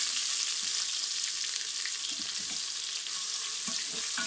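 Meat frying in a pan for jollof rice, a steady close sizzle with soft crackles and occasional light stirring scrapes throughout, no voices.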